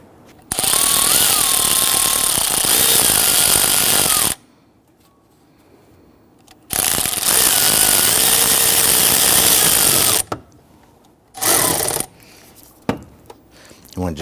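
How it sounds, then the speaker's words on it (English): On a 2011-2015 Kia Sorento, a power tool with a 10mm socket tightens an air intake tube clamp in three loud, close bursts of whirring and ratcheting, separated by quiet pauses, with a short final buzz. "I'm going to use my 10mm socket, and we're going to secure our air intake tube clamp down below."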